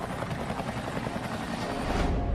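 A helicopter flying in documentary footage of the last Americans being evacuated from the U.S. embassy roof in Vietnam, a loud steady rotor drone that grows slightly at the end.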